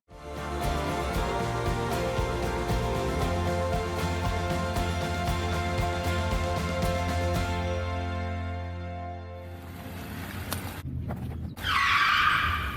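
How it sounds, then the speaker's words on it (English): A car skids with loud, sustained tire screeching close by in a street near-miss, the squeal holding for several seconds under engine noise before cutting off into a short burst of louder commotion. "We almost got hit by a car."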